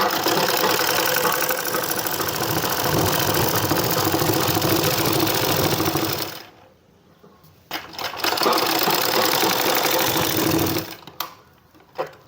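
A sewing machine stitches a kurti top, whirring in a fast, steady mechanical chatter for about six seconds, then stopping and starting again in a short burst, with brief pauses and small handling noises between runs.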